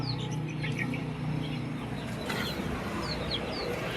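Chicks of a large Belgian chicken breed chirp in scattered high peeps over a steady low clucking murmur from a small backyard poultry yard, continuous and moderately close with no talk.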